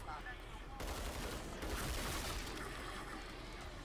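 Rapid automatic gunfire from a weapon in the video game Killing Floor 2, a dense burst of overlapping shots that starts abruptly after a short pause and continues loudly to the end.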